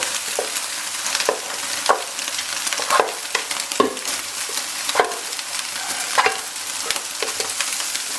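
Rice stirred and tossed in a pan with scallions and onion, giving a steady low sizzle punctuated by repeated scraping strokes of a spatula at an uneven rhythm, close and moderately loud.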